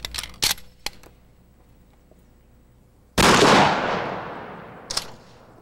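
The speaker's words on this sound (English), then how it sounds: "And finally, the mannequin is shot with a rifled slug." A shotgun fires a rifled slug into a mannequin: a single sharp, loud blast cuts in and decays in a long rolling tail, preceded by a few faint clicks and small transients.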